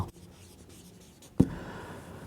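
Pen strokes scratch softly across paper during a trigonometry lesson, with one sharp tap of the pen partway through; the writing is quiet and close.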